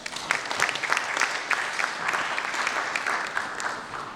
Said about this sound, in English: I think this deserves a round of applause.